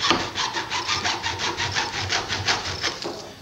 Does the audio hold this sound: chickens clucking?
no